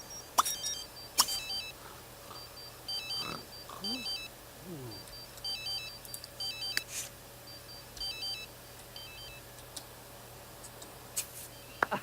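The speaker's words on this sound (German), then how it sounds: "Schon wieder Telefon." A telephone rings in The Sims 3 with a repeating electronic ringtone pattern of short bursts over a steady game background. Faint clicks and game voices sound alongside it.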